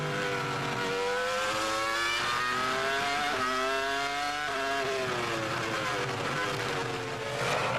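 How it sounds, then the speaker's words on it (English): A Ferrari Formula One car engine racing at the 2002 Hungarian Grand Prix, a loud high-pitched scream rising and shifting through gears, heard continuously from onboard with no talk. "Great to hear that Ferrari engine working hard."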